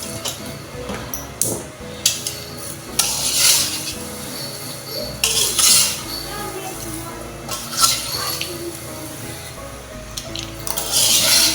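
Popcorn being stirred with melted butter in a metal pot, with repeated scraping, clinking and rattling strokes of a utensil against the pot, some louder bursts among them, and faint talk now and then.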